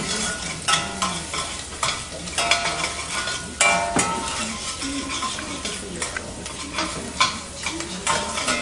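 Garlic, onion and bacon sizzle and crackle in a pan as they are stirred, a close, steady frying hiss broken by repeated scraping strokes of the stirring.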